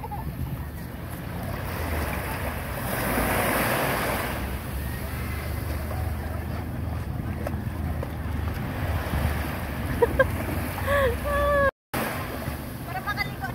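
Ocean waves wash in steadily at Deep Water Bay beach in Hong Kong, with wind buffeting the microphone throughout and people chatting nearby over the surf.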